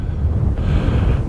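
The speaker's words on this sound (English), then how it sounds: "So even though I've got a mic on, it's quite windy up here." Strong wind buffets the microphone on the summit of Brandreth, a dense, loud, low roar that fills the whole short moment with no break.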